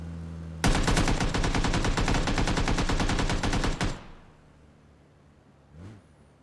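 Fast automatic gunfire in PUBG, one loud continuous burst of about three seconds that cuts off abruptly into quiet background.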